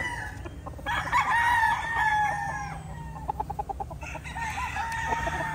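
A Gilmore Cross gamefowl rooster crows loudly and close by, one long drawn-out call followed by clucking and shorter calls from farm fowl.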